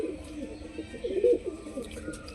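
Soft cooing of a Giribaj pigeon, a native high-flying breed, murmurs in a few low, gentle phrases close by, with a faint background hum.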